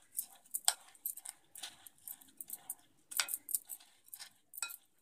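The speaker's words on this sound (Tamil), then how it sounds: "ஒரு ஸ்பூனில் இது எல்லாமே நல்லா மிக்ஸ் பண்ணுங்க." A spoon clinks and scrapes in a bowl while mixing sweet aval, beaten rice with dissolved jaggery, in quick, uneven light taps up close.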